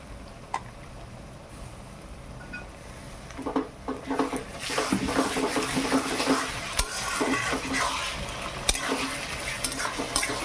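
Ginger and garlic fry in a pan for a meat curry, starting quiet and then swelling into a dense hiss with scraping stirs, a few clinks, and sharp spikes, close and moderately loud with no voices.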